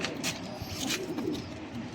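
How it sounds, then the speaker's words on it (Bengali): Salara teddy pigeons of the Mianaji bloodline coo softly in low, repeated murmurs, set against a busy background hiss. "এটা সালারা ব্রিডের কবুতর, মিয়ানাজি ব্লাড লাইনের সালারা টেডি"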